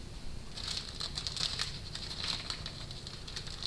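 Dry steak spice pattering onto raw steak in quick, light bursts of granular ticks, a close and fairly faint sprinkle with no talking.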